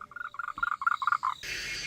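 A small frog calls in a rapid run of short croaks, about a dozen in quick rhythm, close and fairly clear, out in the Taiwan countryside at night, before a hiss of noise covers the end.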